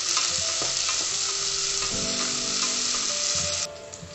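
Cashews and black pepper sauté in hot fat for venpongal, a steady loud sizzle with stirring scrapes and clinks of a spoon against the pan, cutting off near the end.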